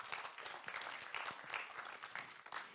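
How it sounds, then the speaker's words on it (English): A pitch competition audience applauds as a jury member is introduced, a short burst of fairly faint, continuous clapping with an uneven texture and no voices over it. "A round of applause, please."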